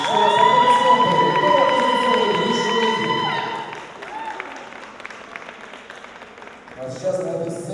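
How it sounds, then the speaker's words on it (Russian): Audience at a dance competition applauds and cheers loudly after the artistry scores, with shouts and a host's voice over the crowd, the noise fading after a few seconds before talk resumes. "Еще раз аплодисменты."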